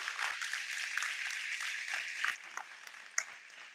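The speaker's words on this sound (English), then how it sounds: "Let's give her one more round of applause." A commencement crowd at a health sciences graduation gives a fairly distant, moderate round of clapping that thins out toward the end, with a few sharper claps near the close.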